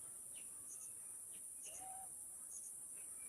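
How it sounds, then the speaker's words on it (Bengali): Crickets chirp steadily in a forest park, a constant high-pitched trill that fills the background alone, with a few faint bird chirps scattered over it. "শুনতেই পাচ্ছেন ঝিঝির ডাক"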